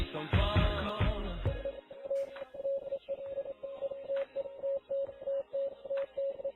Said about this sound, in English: there's a secret embedding of Morse code which can be heard